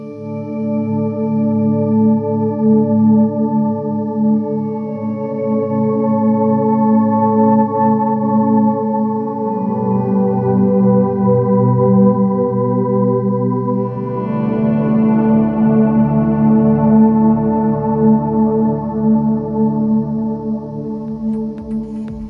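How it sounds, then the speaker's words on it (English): Electric guitar swells run through an octave generator effect, sustained chords fading in smoothly with a deep added lower octave, one chord shifting to the next across a steady progression with a washy effected tail, no talking. "Another thing I use to make my swells a lot deeper is by using my Octave Generator."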